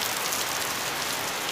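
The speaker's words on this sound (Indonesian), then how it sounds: "Ini pas lagi hujan" Rain falling steadily, a close, even hiss of drops on surfaces that continues without a break, with no one talking.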